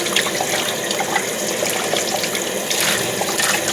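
Food rinsed under a running kitchen tap, a steady close hiss and splash of water with small shifts as the stream is interrupted.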